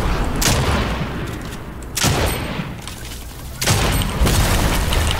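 Gunfire in a video game rings out in three loud, close blasts spaced about one and a half seconds apart, each trailing into a noisy rumbling decay.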